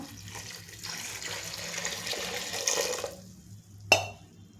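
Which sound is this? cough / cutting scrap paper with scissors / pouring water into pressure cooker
pouring water into pressure cooker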